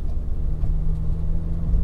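A Matra Rancho being driven, its engine a steady low rumble with road and cabin noise, constant and fairly loud from inside the car, no voices.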